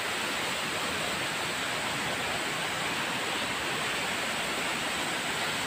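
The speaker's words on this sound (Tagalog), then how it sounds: "Habang dumidilim, videohan natin ang napakagandang Busay Falls." Busay Falls, a waterfall in Barangay Tumagabok, pours with a steady, dense roar of broadband rushing water that stays even and unbroken throughout at dusk.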